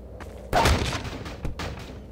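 Gunfire in Half-Life 2: a sharp close shot followed by a few quicker, softer reports, with a sniper shooting, heard without talking over it.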